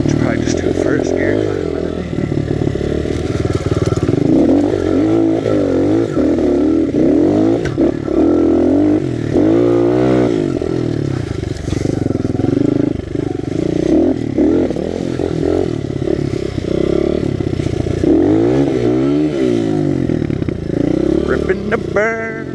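A Honda XR 100 pit bike engine revs hard while being ridden, with repeated rising and falling throttle sweeps, close and loud, with some clatter and a voice talking over it.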